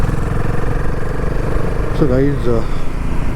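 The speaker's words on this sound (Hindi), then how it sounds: "मेरी बाइक धड़ाधड़ चल रही है" A motorbike engine runs steadily on a clean mountain road, its low drone continuous throughout, with someone talking briefly over it near the end.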